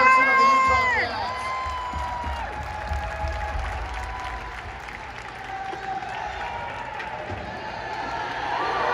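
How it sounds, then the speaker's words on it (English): An arena crowd applauds and cheers for Jordan Clarkson of the Utah Jazz at a Filipino Heritage Night basketball event, steady clapping with shouts and a few high whistles or squeals, loud and sustained. "big round of applause for Jordan Clarkson of the Utah Jazz"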